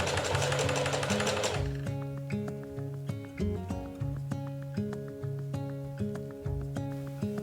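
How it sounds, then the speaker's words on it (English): Domestic sewing machine running a straight stitch over a seam on a skirt, a fast, even rhythmic needle clatter with a steady mechanical hum, close and alone after a brief burst of noise at the start. "to flatten the seam and make it look like the other joins, I sew over it one more time with a straight stitch"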